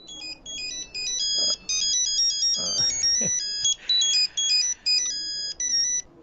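A phone ringtone plays a loud, close electronic melody in repeated bursts with short gaps. Brief voices and noises appear faintly underneath during a Telugu comedy scene.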